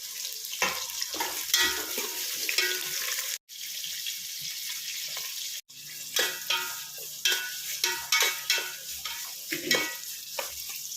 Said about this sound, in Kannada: ಈರುಳ್ಳಿ ಸ್ವಲ್ಪ ಕೆಂಪಗಾಗೋವರೆಗೂ ಫ್ರೈ ಮಾಡ್ತೀನಿ